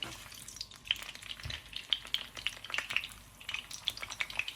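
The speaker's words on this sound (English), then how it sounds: "we're gonna slightly toast our tortillas in there until they come nice and pliable. So we're just gonna put them in the hot oil a couple of seconds on each side" Corn tortillas toast briefly in hot oil for chicken taquitos, a steady bubbling fry with scattered crisp pops and crackles that rise and fall, close up, with no talk.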